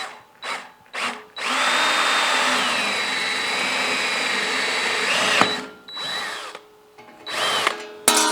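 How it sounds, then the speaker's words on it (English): A power drill whines through metal in one long sustained run, drilling a hole to tap for a 1/4-20 thread, framed by several short bursts before and after, loud and close. "I'm going to drill and tap for"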